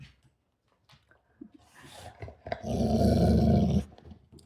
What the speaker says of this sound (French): Qu'est-ce qu'il y a, mon chien? Il regarde dehors, puis il chigne.